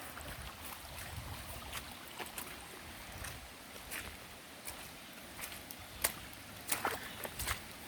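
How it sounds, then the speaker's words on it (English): Rainwater from an all-day rain running down a roadside ditch toward a creek, a steady broadband rush with scattered splashes and gusts near the end, outdoors with no talk. "All this water runs down through here"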